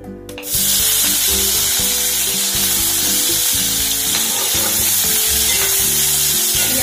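Small peeled potato pieces fry in a hot pan for a Mithila-style curry, a loud, close, continuous sizzle that starts abruptly and carries on steadily under metallic stirring clinks.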